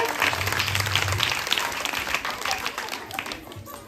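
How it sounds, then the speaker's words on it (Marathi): Loud applause from a crowd at a school haldi-kunku ceremony fills the whole stretch, steady clapping that thins slightly toward the end. "जोरदार टाळ्या"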